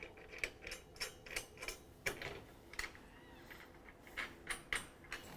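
An impact driver with a socket runs nuts onto bolts while a pipe is clamped to a metal roof, giving a series of short rattling bursts spaced roughly every half second, fairly quiet.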